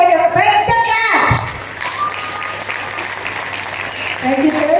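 An audience breaks into applause at a school event, a dense burst of clapping that follows a speaking voice and continues steadily, with talking returning toward the end.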